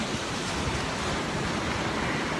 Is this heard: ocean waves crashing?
yes